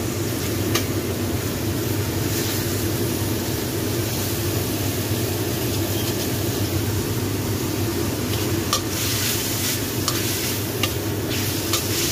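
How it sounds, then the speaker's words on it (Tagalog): Steady broadband whirring hum of a kitchen exhaust fan running continuously, with faint sizzling and clinks of cooking layered on top. "Maingay yung exhaust fan ko."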